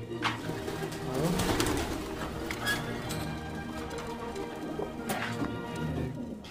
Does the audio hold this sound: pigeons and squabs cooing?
yes